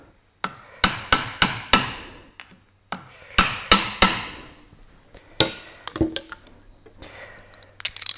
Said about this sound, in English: So tap them down a little bit further.